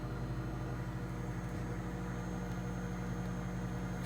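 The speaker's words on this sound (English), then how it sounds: "most of the noise that you're hearing is coming from the microwave." A steady, low mechanical hum of a microwave oven running on a Champion Dual Fuel 3500 inverter generator, constant and fairly close, with no talking.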